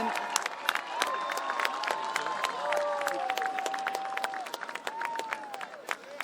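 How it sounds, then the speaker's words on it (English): A crowd at an outdoor political rally in St. Louis applauds and cheers as the ambassador to Ireland is brought up, with scattered clapping and whoops at moderate distance, fairly faint overall. "Let's give him a big round of applause."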